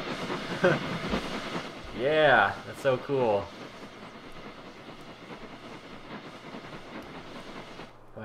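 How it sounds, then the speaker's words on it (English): A steam train in The Sims 3 hisses steadily and rumbles past in the background, while a person speaks briefly over it. "There's the steam train."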